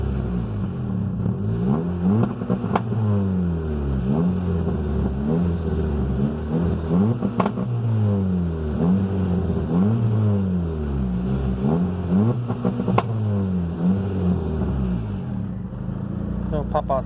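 A car with an eBay turbo kit on a two-step launch control holds a loud, rough, fluctuating rev with crackling pops, close by, while someone talks over it.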